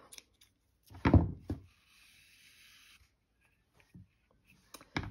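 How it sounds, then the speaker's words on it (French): Scissors snip crochet yarn close by: brief crisp cutting sounds with soft handling noises around them, plus a faint high whine in the middle. "Je garde du fil pour la couture et je coupe."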